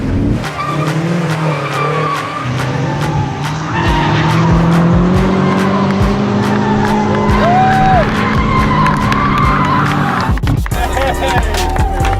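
A BMW M5 drifts through a Guinness world record drift and refuel attempt, its engine roaring steadily for about ten seconds under continuous loud tire squeal, with brief skid chirps and a sharp clattering end.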